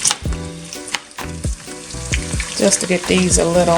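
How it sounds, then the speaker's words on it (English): Chopped onions sauté in a hot pan with a steady, close sizzle and frying crackle, stirred now and then with a few clinks of a utensil, while a person talks briefly over the cooking. "Got my onions. Just gonna saute this for about a minute before I add the greens in"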